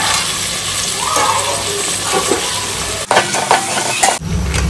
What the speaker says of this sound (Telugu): ఇప్పుడు మనం లాస్ట్ టమాటాస్ వేసుకుంటాం మొత్తం వేసుకుని వీటిని అన్నిటి బాగా మగపెట్టుకోవాలి